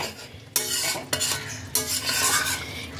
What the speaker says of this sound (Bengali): গরম মশলা গুঁড়োটাকেও ঝোলের সাথে ভালো করে মিশিয়ে নেব।